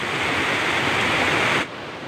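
Water rushing loudly and steadily through a drainage channel inside a colonial-era hydropower bunker, a close, broad roar that drops off abruptly near the end.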